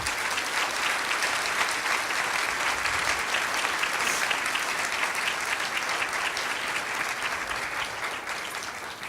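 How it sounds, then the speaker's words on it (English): Sustained, steady applause from an audience at an awards ceremony during a lifetime achievement presentation, loud and continuous throughout with no voices over it. "I just would like us to give Jeff Copeland a big round of applause"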